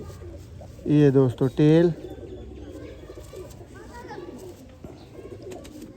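A Sialkoti pigeon gives a loud burst of throaty cooing, two or three close warbling calls, against a murmur of other birds, while someone talks nearby.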